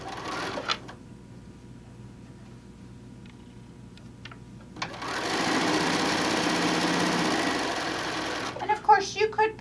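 Sewing machine stitching a quilt seam to finish a row of fat-quarter blocks: after a quiet start with a few clicks, a steady fast whirring run of stitching for several seconds, then stopping with light handling clicks.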